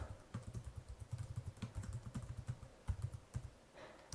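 A password is typed on a computer keyboard, the keystrokes coming as faint, quick, uneven clicks and taps that run steadily throughout.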